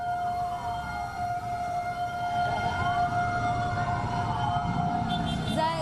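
Fire engine sirens wail with rising and falling tones as about three fire units arrive at the burning Attorney General's Office building in Jakarta, loud and steady over a rumbling background of traffic and crowd noise.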